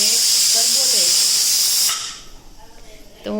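Hot tempering (vaghar) with sesame seeds poured over steamed patra, a loud, close, steady sizzling hiss lasting about two seconds before dying down to softer crackles, with a voice heard faintly under it.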